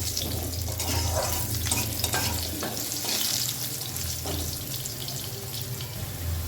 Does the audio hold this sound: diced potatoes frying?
yes